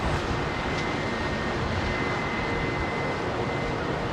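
A jet airliner takes off from runway 27R at London Heathrow Airport, a steady broad engine roar holding level and loud from start to finish with no talk.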